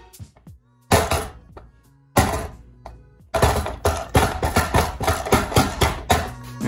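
Loose parts on a kick scooter with IHC or HIC compression rattle and thunk in repeated hard knocks, sparse at first and then a rapid rattling run as it is ridden or bounced; close and loud, with no talking.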